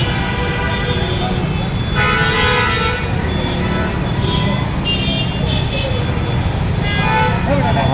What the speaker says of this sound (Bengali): খালি হর্ন আর হর্ন।